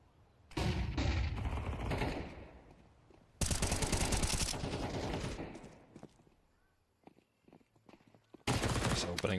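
MP9 gunfire in Counter-Strike during an esports match, several loud close bursts of rapid shots separated by pauses, with commentary talk between them.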